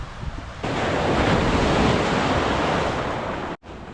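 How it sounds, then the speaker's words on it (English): Lake waves wash onto the shore in a loud, continuous surge on an autumn day, mixed with gusty wind buffeting the microphone, then briefly cut off. "Too much waves for you?"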